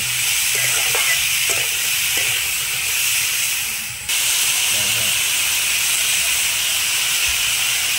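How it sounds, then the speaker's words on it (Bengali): Salted vegetables lightly fry in a pan with a loud, continuous steamy hiss and sizzle that dips briefly midway before carrying on evenly. "এবার এগুলো একটু আমি হালকা করে ভেজে নেব।"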